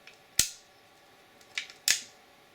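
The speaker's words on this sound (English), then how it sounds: "This is the bolt. Okay, the bolt's a rotating bolt." Sharp metallic clicks from the rotating bolt of a titanium Desert Eagle .50 AE pistol being worked by hand, close and distinct with a pause between them, in a quiet room.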